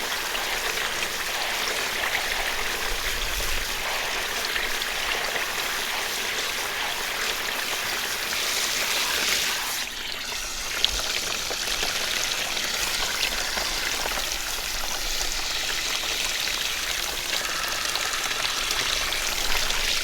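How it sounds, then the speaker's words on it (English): Tap water running steadily over tie-dyed t-shirts being rinsed outdoors on a warm day, a constant splashing wash that holds unchanged for twenty seconds, with a faint thump partway through. "No better thing to do than to rinse out some tie-dyes for you."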